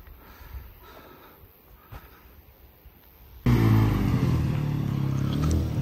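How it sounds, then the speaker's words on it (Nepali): A Bajaj Pulsar NS200 motorcycle starts up abruptly partway through on a quiet mountain trail near Junbesi, Nepal, after a stretch of faint ambient sound, then keeps running with a loud, steady, close engine rumble. "टक्क अब चुम्बा सरको बाइक स्टार्ट भयो"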